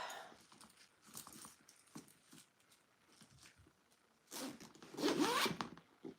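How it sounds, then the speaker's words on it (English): Zipper on a newly sewn fabric bag being closed, quick scratchy zipping bursts with a longer, louder pull near the end, close and quiet with no voices. "let's zip her up"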